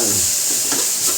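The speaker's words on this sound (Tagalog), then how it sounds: "Isama na natin sa pag-isa ang puso ng saging" Banana heart sautéing and being stirred in a pan for coconut-milk banana heart with shrimp, a steady near sizzle running under a few soft scraping stirs.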